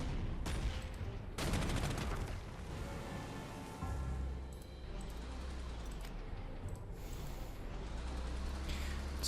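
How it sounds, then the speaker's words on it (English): Artillery fires in the war strategy game Panzer Corps 2. Two heavy blasts hit early, and a lower rolling rumble and scattered distant reports follow. "Pretty funny that this also has artillery support."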